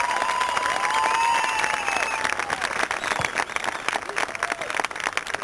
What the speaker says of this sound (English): please a loud round of applause for all of them